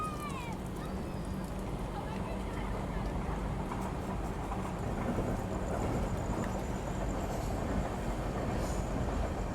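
The Bihar Sampark Kranti train rumbles past on the rails in a steady, continuous roar heard from a moving train, with a voice speaking faintly under the noise.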